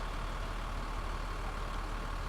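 A ship's engine in the Sunless Sea video game rumbles as a steady, low, even drone that stays unchanged throughout, with no other sounds or voices.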